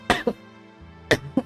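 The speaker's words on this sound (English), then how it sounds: "God damn, having a chronic cough sucks ass." A chronic cough from a person out of medicine sounds as two quick pairs of short, sharp coughs, close and fairly loud, separated by a brief quiet gap.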